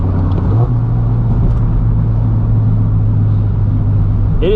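A Mazda Miata engine hums steadily from inside the car on a scenic road drive at Colorado National Monument, a loud, even low drone with road rumble and no speech.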